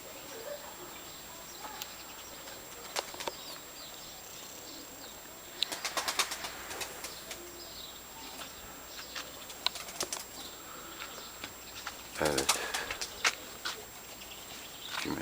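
Domestic pigeons flutter in a loft, with scattered wing flaps and a busier burst of flapping near the middle and again near the end, all faint against a steady background hiss.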